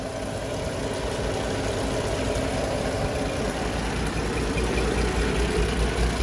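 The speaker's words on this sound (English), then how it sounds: "show you what the engine sounds like when it's at a low idle." A 1948 REO Speed Wagon engine idles low and quietly with a muffler, a soft, steady rumbling purr held evenly without a break.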